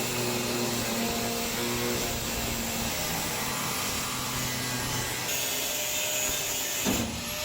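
Steady, continuous power-tool whine with a rough grinding edge as an old trailer bumper on a 1949 Spartan Manor chassis gets cut at an angle, loud and close throughout with a brief sharper burst near the end.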